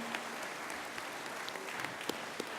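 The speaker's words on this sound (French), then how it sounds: "On peut les applaudir déjà," An audience at a business awards evening in Valence Romans applauds the nominees, a steady wash of many hands clapping at moderate distance with scattered sharper claps standing out.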